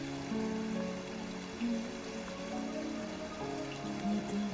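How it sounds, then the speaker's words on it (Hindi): Rain falls steadily, a soft continuous patter on surfaces with occasional heavier drips, no voices. "लगता है बारिश थोड़ी कम हो गई है।"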